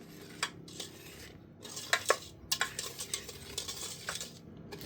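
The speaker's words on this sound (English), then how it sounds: "Continue whisking for a good 3 minutes or until the sugar melts and the mixture reaches a condensed milk consistency." A whisk clinks and scrapes against a bowl while sugar and vanilla are beaten together for brownies, with irregular light metallic taps and rattles that come close and bright.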